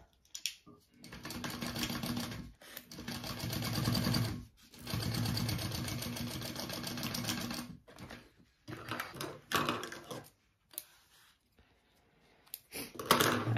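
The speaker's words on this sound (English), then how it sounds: "I'm going to sew those two together at a 3/8 inch seam allowance" A sewing machine stitches a seam on a crossbody bag, running in rapid rattling bursts of a few seconds each, separated by short pauses and small handling clicks, close and without speech.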